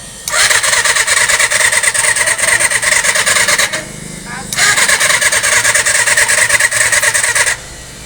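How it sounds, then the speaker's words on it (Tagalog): A Yamaha FZ400 motorcycle with a no-spark fault is cranked with the starter in two long bursts of steady whirring, roughly three seconds each, with a short gap between and no catch, loud and close. "na-start po natin pero ayaw talagang umandar"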